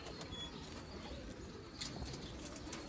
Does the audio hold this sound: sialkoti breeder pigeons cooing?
yes